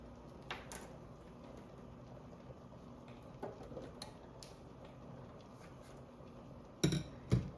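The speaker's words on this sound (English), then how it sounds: "You have to keep boiling it." A pot of dhal (lentils) simmering on a stove, giving soft, faint bubbling and a light ticking of liquid, with a couple of louder knocks near the end and no speech.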